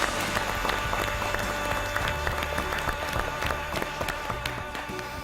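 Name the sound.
students applauding in class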